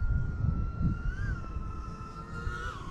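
A 3-inch FPV freestyle drone on HQProp T3x2x3 props on a Quadmula SF3 frame, heard as a high, thin motor whine that bends in pitch as the throttle changes, over steady wind rumble.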